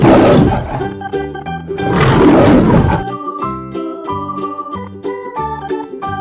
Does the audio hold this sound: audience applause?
no